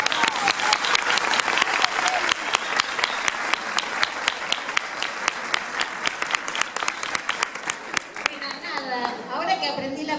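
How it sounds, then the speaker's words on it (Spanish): An audience claps for a speaker at a teacher-training institute event, crisp rapid hand claps from a moderately sized crowd, thinning toward the end as voices and chatter begin. "le pido un fuerte aplauso"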